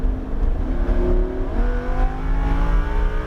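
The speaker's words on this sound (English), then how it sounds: "as soon as you see the yellow cone, accelerate" A Lamborghini Huracan LP 610-4 accelerates hard on a race track, its engine note climbing steadily through the gears with a loud, close, continuous roar and a brief shift near the middle.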